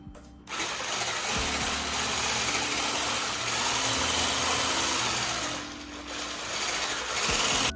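An electric mixer beats chai sugar cookie dough on low speed, giving a steady close motor whir with grinding, rasping texture that starts abruptly, dips briefly and picks back up near the end.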